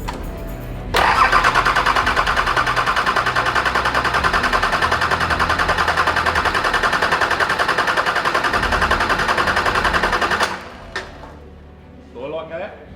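An engine is cranked without starting to build oil pressure, the starter churning loudly in a fast, steady rhythm for about ten seconds before cutting off, followed by faint clicks.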